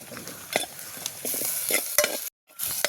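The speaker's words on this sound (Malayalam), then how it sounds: "നമുക്ക് തക്കാളി ഇട്ടെടുക്കാം." Tomatoes go into a pan of sautéed onions and are stirred, giving a close, steady sizzle broken by sharp scraping strokes of the spoon, with one brief silent gap near the end and no talking.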